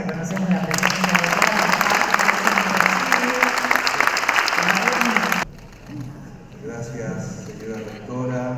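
Applause from an audience at a municipal governance forum greets a guest, loud and dense for about five seconds, then drops sharply to a quieter stretch with voices over it.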